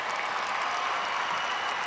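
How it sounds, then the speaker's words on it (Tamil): Audience at a Vijay Music Awards show applauds in a dense, continuous burst of clapping, steady and fairly loud throughout the short stretch. "நான் நீங்க கட்டாயம் பாடணுங்கிறதுக்கு தான் இந்த கைத்தட்டு நினைக்கிறேன்"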